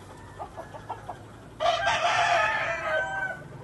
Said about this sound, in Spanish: Este gallo es de mi amigo Todd Dixon, un Penny Hatch